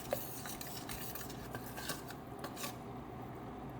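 A spoon scrapes and stirs flour into ghee in a metal pan for sukhdi, making a soft, repeated series of rubbing strokes with light clinks against the pan, close by and with no talk.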